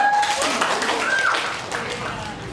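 Classroom clapping after a student presentation, a steady broadband patter from a group of hands mixed with voices and chatter.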